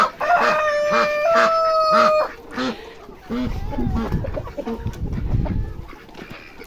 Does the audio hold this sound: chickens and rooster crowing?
yes